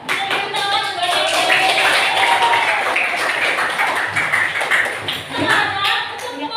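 Ninth-grade students in a school classroom clapping for classmates, steady close applause throughout with a teacher's voice over it.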